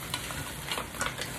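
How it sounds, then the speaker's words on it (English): Mussels stirred in a hot pan with a little sugar give a brief wet sizzle, with light scraping and shifting shells under steady frying hiss, close and fairly soft. "Give it a good mix."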